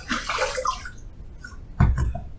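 Water splashed onto a face before shaving a six-day beard with an open-comb razor, a bright wash of splashing early on, a quiet pause, then a couple of closer, fuller splashes near the end.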